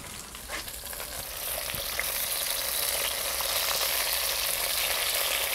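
Eggplant frying in extra virgin olive oil in a 12-inch Dutch oven, a dense, steady sizzle that grows slightly louder and holds, with crackling pops throughout and no talking.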